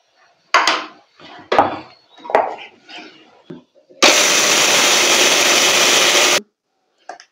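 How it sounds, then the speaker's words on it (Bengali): Mixer grinder grinding chana dal into powder: a loud, steady whirring roar that runs for about two and a half seconds, preceded by clatter and handling noises of the jar. "এটাও মিক্সিং জারে দিচ্ছি, দিয়ে ডাস্ট করে নেব"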